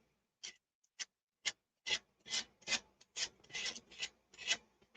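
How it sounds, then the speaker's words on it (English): A worn sanding block rubbed by hand over a surface in a run of about a dozen rasping strokes, each one short and scratchy, close and distinct, with the rhythm quickening toward the end. "I always just go in one direction and I go down when I'm sanding"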